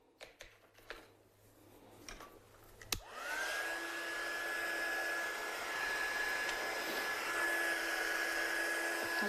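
A heat gun whirs on after a click and runs as a steady, close, high-pitched blowing drone while heat-setting embossing powder on a handmade card.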